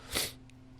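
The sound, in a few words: a person sneezing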